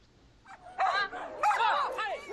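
At a canicross race, a dog gives excited, high-pitched yips and barks that rise and fall in short bursts, close and fairly loud, with people talking at the same time.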